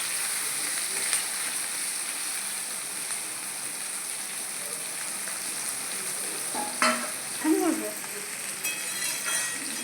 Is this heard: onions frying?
yes